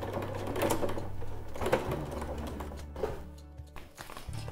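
A sewing machine stitches fabric for a coin purse, a close, steady mechanical whirring chatter that runs for a few seconds before slowing and stopping.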